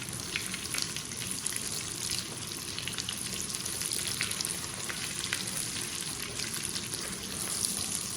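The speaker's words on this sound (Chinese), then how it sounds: "这样炒着炒着，这葱姜的香味就炒出来了" Scallion and ginger stir-fry in melted pork fat in a wok while a braised pot pork dish is made. A steady, close, dense sizzle runs throughout with no pauses.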